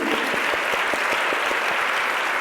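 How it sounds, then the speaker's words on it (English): Audience applause at a welcome session of a women's empowerment principles conference, a dense, loud, sustained round of clapping with individual claps audible throughout. "Big round of applause just to cheer you on for the day"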